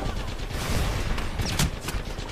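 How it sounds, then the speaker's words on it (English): Sustained rapid gunfire from the video game Apex Legends, a dense, steady volley at moderate loudness with a few sharper shots standing out, no talk. "That guy is shooting."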